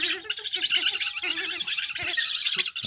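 Breeding pet birds with chicks make harsh, close squawks and calls in quick overlapping bursts, with several birds calling over a constant chattering background.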